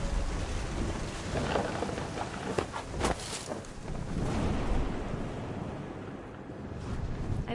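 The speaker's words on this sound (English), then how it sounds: "The thunder sounded much too close and full of angry power" A thunderstorm with heavy rain plays in the video game What Remains of Edith Finch, with a dense, roaring downpour and close cracking thunder peals near the middle, continuous and loud with no voices.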